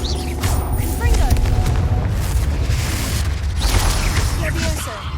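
A Confringo fire spell explodes in the video game Hogwarts Legacy with loud, rumbling booms and crackling bursts over layered combat effects and chirps, and a voice is heard amid the battle.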